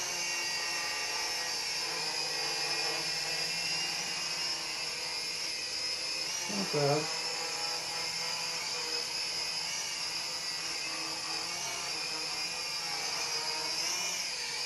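A small ELINOOVER FPV quadcopter drone flies inside a small room, giving a steady high-pitched whine that holds level throughout. A brief voice cuts in near the middle.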